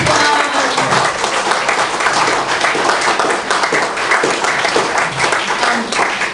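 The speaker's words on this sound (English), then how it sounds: "Let's give them a round of applause." Audience at a Lake County Liberty Coalition meeting breaking into steady, loud applause, dense clapping sustained evenly from start to finish with no voices over it.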